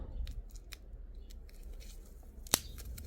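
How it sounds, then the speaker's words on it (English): Scissors cut a small charm off a wristlet with faint soft snips followed by one sharp, loud close-up clip near the end, against a low background rumble. "I'm gonna have to like cut this off."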